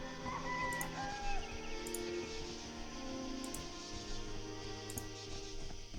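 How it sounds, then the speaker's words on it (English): A rooster crows in the 2001 Troika role-playing game Arcanum, a game morning sound effect: a few drawn-out crowing calls set inside a dense, steady bed of ambient game sound, moderately loud throughout. "We can hear the fucking rooster and all."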